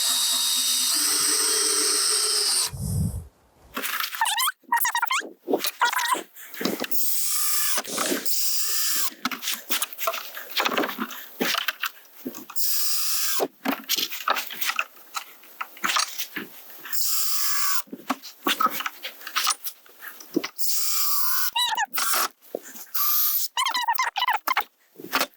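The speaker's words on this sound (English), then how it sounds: "So I'll screw this side in, and then when I come to this side, I'll do the same thing again." A power drill driving a screw to fix a shelf support into a wooden leg, whining in long, loud bursts with short pauses and squeaky, ratcheting stops between runs.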